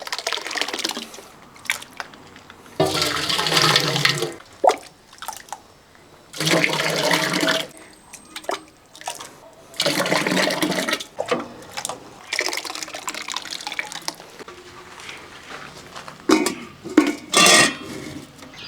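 Thick rice porridge, Kerala-style nombu kanji cooked in bulk, is ladled into a vessel in repeated bursts of sloshing and scraping against metal, with short pauses between pours.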